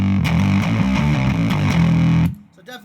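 An unprocessed electric guitar plays a short run of notes, sustained and clean, then cuts off into near silence.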